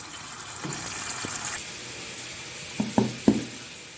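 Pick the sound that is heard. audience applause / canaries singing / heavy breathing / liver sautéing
liver sautéing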